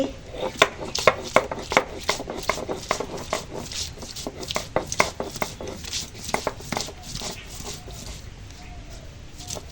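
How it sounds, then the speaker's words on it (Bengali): About an inch of ginger and garlic ground to a fine paste for a potol-prawn curry: steady, close rhythmic scraping and knocking strokes repeating throughout, with no talking. "এখানে এক ইঞ্চির মতো আদা আর রসুন নিয়েছি এখন এটা একদম মিহি করে বেটে নেব"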